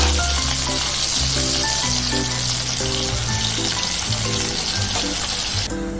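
Nigella seeds with green chili paste and ginger paste fry in hot oil, giving a loud, continuous close-up sizzle that holds steady throughout.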